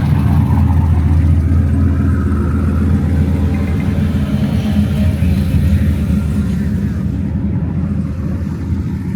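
Cars rolling into a packed car-show checkpoint parking lot during the Sick Summer event produce a continuous low engine rumble and whir, steady and fairly loud, with no single vehicle standing out.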